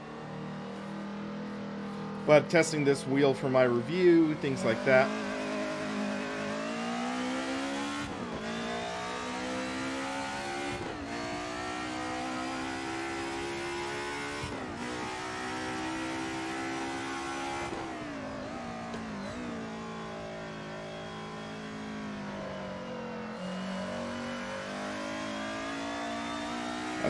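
A race car engine in a racing simulator drones steadily and loudly throughout, with a burst of revving early and rising and falling pitch through gear changes, while someone talks briefly over it.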